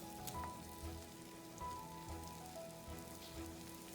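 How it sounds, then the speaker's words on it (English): Tomatoes, onions and garlic sauté on high flame, giving a soft, steady crackling sizzle like light rain, faint and even throughout with no talking. "I'm just going to saute them on high flame"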